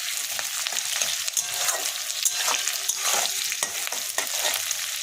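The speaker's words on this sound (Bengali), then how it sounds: "পেঁয়াজটা একটু ভাজা হোক।" Onion fries in a pan with salt, giving a close, continuous sizzle with crackles and stirring scrapes, steady throughout and with no talking.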